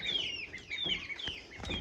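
Chickens clucking on a farm, a close, busy stretch of overlapping clucks and squawks with no voices.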